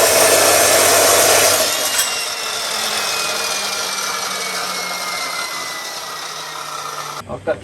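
Power tool cutting a piece of leaf spring, a loud continuous grinding rasp that runs for about seven seconds, eases in pitch partway through, then cuts off into a few faint clanks.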